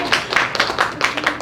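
Audience at a gathering on Jeju Island claps after a speech about a lawsuit on behalf of haenyeo women divers; a brief, moderate patter of hands rises and falls in repeated bursts, with no speech over it.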